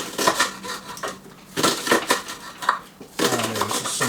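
Ham mixed with cheese, spring onion and parsley being stirred together, giving a few close bursts of wet crunching and utensil scraping with short pauses between strokes.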